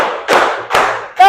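Hand claps in a classroom ice-breaker, three sharp bursts spaced about half a second apart, loud and close, the last one ringing slightly.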